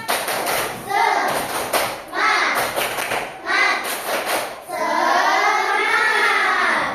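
Schoolchildren in a classroom perform the 'tepuk semangat' rhythmic clap, sharp grouped hand claps in repeating patterns alternating with children's chanting voices, fairly loud and close.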